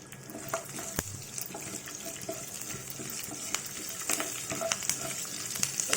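Urad dal, mustard seeds, cumin, chilli and curry leaves fry in hot oil for a tempering, a steady close sizzle with scattered pops and light stirring clatter.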